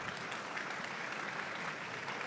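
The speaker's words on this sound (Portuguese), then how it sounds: "Salva de palmas para o Guga Stocco." Brief, fairly faint burst of steady audience applause at a fintech conference panel, an even wash of many hands clapping without voices.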